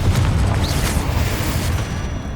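Explosive Bombarda and Confringo spell blasts in the Hogwarts Legacy video game, a loud booming burst with deep rumbling low end and crackling debris that sustains and slowly fades over a couple of seconds.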